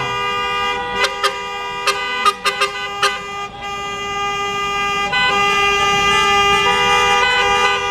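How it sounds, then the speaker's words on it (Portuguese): Car horns toot repeatedly in short bursts and overlapping blasts during a Catholic street procession for Nossa Senhora do Rocio in Paraná, Brazil, with a sustained tonal drone underneath and a denser chorus of honking toward the end. "Vamos buzinar a nossa querida Mãe"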